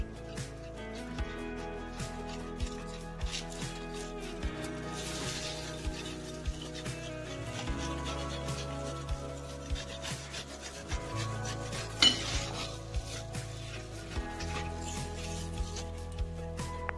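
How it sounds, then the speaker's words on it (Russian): Carrot grated on a kitchen grater for a salad, rhythmic rasping strokes repeating steadily up close, with occasional knocks and no talk. "Натираем морковь на терке."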